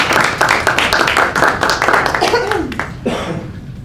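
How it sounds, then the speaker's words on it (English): A storytelling event crowd claps for the next storyteller, brisk close clapping that starts strong and fades out after a few seconds, with a brief voice near the end. "So give her a round of applause."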